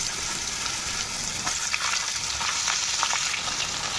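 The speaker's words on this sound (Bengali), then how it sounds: "আলুটা দিয়ে একটু ভাজা ভাজা করে নেওয়ার পর তারপর বেগুনটা দেবো।" Potato pieces fry in hot oil in a pan after tempering spices, a steady close sizzle with light crackles and occasional stirring scrapes, no talk.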